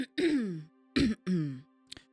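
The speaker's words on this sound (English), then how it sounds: "As you cough loudly" Loud throat clearing and coughing from one person, three rough bursts with short pauses and a small catch at the end, close and clear, with no other sound around it.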